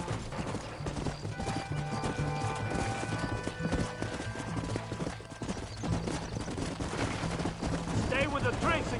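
Rapid clip-clop of galloping horse hooves in the video game Red Dead Redemption runs throughout, mixed with distant gunfire and game music, and a voice shouts briefly near the end.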